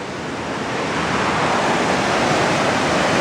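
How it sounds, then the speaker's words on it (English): Laurel Fork Falls roaring as a continuous, loud, dense rush of falling water close by, steady throughout with no voices. "Love waterfall."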